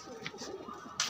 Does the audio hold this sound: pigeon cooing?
yes